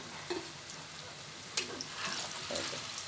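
Shell-shaped jhinuk pitha frying in hot oil, a soft steady sizzle heard up close with faint clinks and stirring noises scattered through it.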